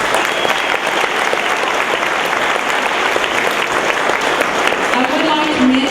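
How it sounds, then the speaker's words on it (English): A school gym crowd applauds as senior gentlemen and young ladies of the Campbell Camels are honored, steady dense clapping filling the room loudly throughout with cheering voices mixed in. "Please give them a round of applause."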